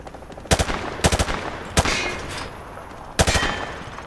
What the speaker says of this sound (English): Grab that weapon off the table and fire at the targets behind you